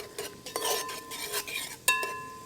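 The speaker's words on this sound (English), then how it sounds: "So one whole diced onion goes in there. We'll fry that up" A whole diced onion frying in a pan over a campfire, a soft steady sizzle with spoon scrapes and metallic clinks against the pan.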